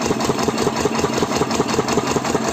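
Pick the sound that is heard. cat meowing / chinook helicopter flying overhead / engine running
engine running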